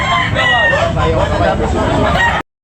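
A rooster crows loudly and close by at a chicken market in Tabunok, Talisay, one long drawn-out call with clucking fowl and faint voices in the background.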